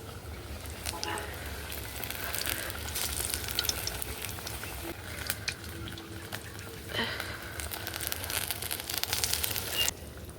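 Pointed gourd pieces dipped in batter fry in moderately hot oil, giving a quiet, steady sizzle with occasional crackles beneath a person talking.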